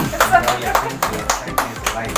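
Hands clap in a steady rhythm at a charity foundation's inauguration ceremony as its new website is launched. The claps are close and fairly loud, with voices talking underneath.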